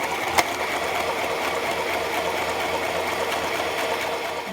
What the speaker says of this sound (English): Then I sew the curved side of the outer panel.